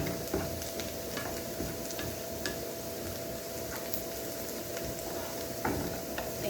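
Onions fry in a pan with a steady, close sizzle, broken by a few faint ticks and stirring scrapes.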